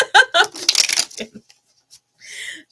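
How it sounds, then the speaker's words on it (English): A deck of cards is shuffled and cut, a short papery riffle burst arriving just after a stretch of talking, then fading to quiet. "Shuffling and cutting the deck."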